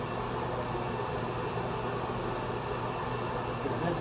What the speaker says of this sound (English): we're going to turn on the vacuum.